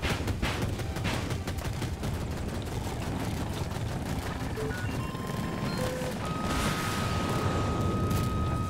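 Gunfire in the video game Battlefield 2042, a dense ongoing barrage of shots and blasts at a loud, steady level with no clear breaks, with thin electronic tones beeping above it.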